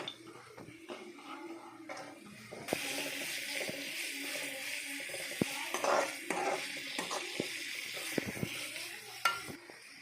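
Carrot, capsicum and cabbage sauté in hot oil in a kadai, with a steady sizzle and intermittent stirring clinks and scrapes running close and continuous.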